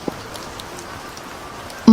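Rain pours down over the village of Ame as a continuous, even hiss with no pauses. It plays alone, and a brief tone cuts in at the very end.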